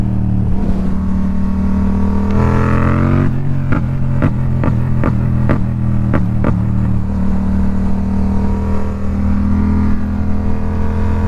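Yamaha MT-07 motorcycle with a stuck throttle, its engine holding a steady loud drone, rising in a brief rev, then a run of sharp rhythmic pulses before settling back to a constant hum.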